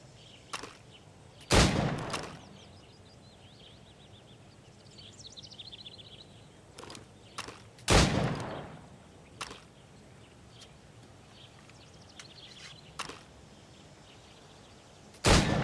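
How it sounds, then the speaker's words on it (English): Gunshots fired at targets in Assassin's Creed Rogue, heard as single sharp cracks spaced several seconds apart. A few land loud and close while others are fainter, over a quiet ambient background. "Shoot these targets."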